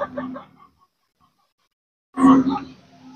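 A giant breed gamefowl chicken (Shamo or Aseel type) clucks from inside its cage in two short bursts of throaty calls, close and fairly loud, separated by a quiet gap.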